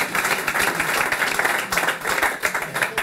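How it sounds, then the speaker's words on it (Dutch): Audience applause after a workshop session at a Dutch knowledge day, a steady wash of many hands clapping at moderate volume for the whole stretch, with no voices over it. "Nog een applaus voor de heren."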